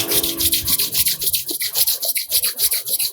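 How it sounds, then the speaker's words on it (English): Palms rubbed together briskly at the end of a yoga session, giving a close, dry, rhythmic swishing friction that repeats steadily for a few seconds with no voices. "Rub your hands together"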